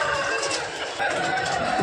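Busy chickens clucking and squawking together at a weekly poultry market in Gokavaram, a dense continuous flock chatter filling the air with steady crowd-like noise.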